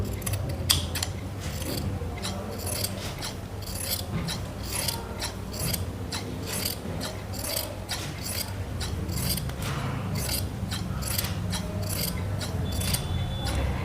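Scissors snipping cloth for an invisible piping on a V neck, a rapid run of crisp close cuts repeating steadily and loud with no pause.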